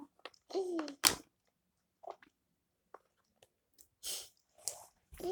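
A child chews chocolate from a giant Kinder Surprise egg, with soft, intermittent wet mouth sounds and bites between brief bursts of a voice and laughter, fairly close and quiet.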